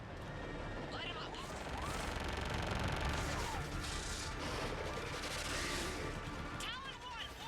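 Weapons fire in the video game Mass Effect 3, a sustained barrage of rapid gunfire, blasts and crashes forming a dense, continuous battle din, with chirping electronic effects and radio voices mixed in.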